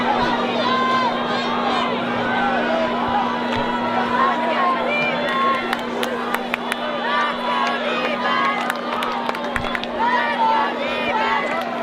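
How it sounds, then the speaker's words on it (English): A home crowd at a high school varsity football playoff game fills the stands with continuous loud cheering, shouting and babble, a steady roar close around, with a hum underneath. "This home crowd is into it"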